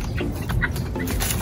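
Young native heritage chickens, three hens and a rooster, let out soft, short clucks and chirps close by in an open outdoor setting during a brief moment.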